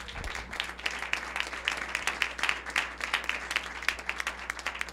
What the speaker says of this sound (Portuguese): Dá uma salva de palmas para o teu Senhor.